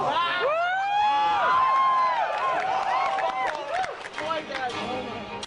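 A large E3 convention crowd erupts at a Bowser reveal, loud cheers, whoops and high-pitched screams rising together and then breaking into scattered shouts and chatter.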